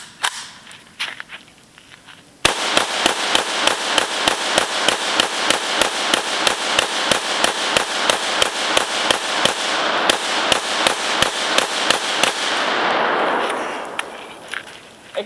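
AK-47 rifle fired in rapid, steady semi-automatic shots at a tree stump outdoors, dozens of loud, sharp cracks in an even rhythm lasting over ten seconds, then a fading echo.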